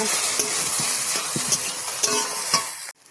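Eggplant being stirred as it fries in a pan, a steady loud sizzle broken by repeated scraping strokes of the spoon, close by, then cutting off abruptly at the end.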